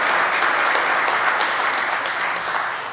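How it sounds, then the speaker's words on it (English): A crowd applauds steadily at a veterans affairs office grand opening in a senior center, dense clapping holding at a strong level throughout before easing slightly at the end. "let's give the governor a nice round of applause."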